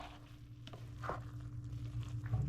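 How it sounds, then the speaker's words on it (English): Mexican beef and rice simmering in a pan while being stirred: a faint, low bubbling hiss with a few soft scrapes of the spoon, quiet and close, with no talking. "you're going to give a nice little stir"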